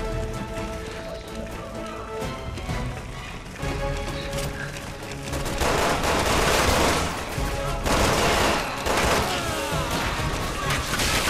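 Video game gunfire in Resident Evil 6 as characters shoot at a giant spider: dense, sustained bursts of shots layered over loud game music and effects, continuous for the whole stretch.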